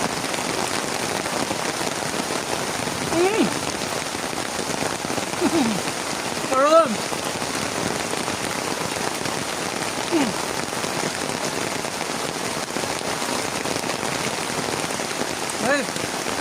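Steady rain pattering on outdoor surfaces around a tomato garden, a continuous even wash of drops with a few brief voices and small knocks over it.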